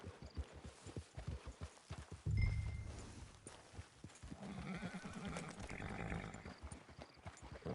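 A horse in a video game clip-clops along at a walking pace with rhythmic hoofbeats, then snorts and whinnies partway through, followed by softer movement and gear sounds.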